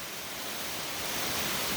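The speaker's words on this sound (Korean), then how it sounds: "아름다운 물이 흐르고 있는 곳입니다. 이 물소리 한번 느껴보시죠." Mountain stream water flowing at Chiaksan in spring, a steady broadband rush that holds level and swells slightly toward the end, with no voices.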